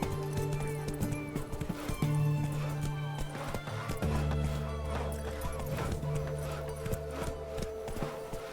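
Roach, Geralt's horse in The Witcher 3 video game, gallops with a rapid, steady clip-clop of hooves close by, a brief whinny breaking through over sustained low tones from the game's music.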